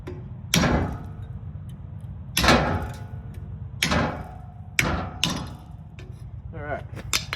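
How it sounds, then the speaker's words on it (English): A hammer knocks a dust ring off a truck's center bearing: about five sharp metallic strikes, spaced irregularly with a couple in quick succession, ringing briefly in a workshop. "let's knock that dust ring off"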